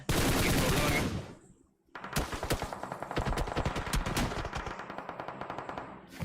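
A battle royale video game's gunfire bursts out in rapid automatic volleys: a loud burst, a brief lull, then sustained sharp repeated shots. Players talk over the firing.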